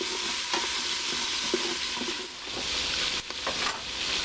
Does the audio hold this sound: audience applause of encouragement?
no